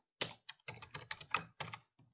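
Keystrokes on a computer keyboard while Python code is typed, in short irregular bursts of clicks with brief pauses between them. Close and clear, no talking.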